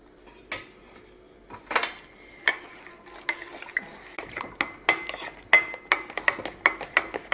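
A spoon stirs pearl millet milk into boiling milk in a pot, making a steady series of light scraping clinks and taps against the metal, close and fairly quiet with a faint simmer underneath.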